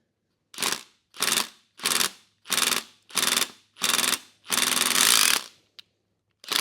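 Impact gun loosening head bolts on a 1949 Willys truck: seven loud rattling bursts, six short and evenly spaced and then one longer sustained hammering, close by with brief silences between them.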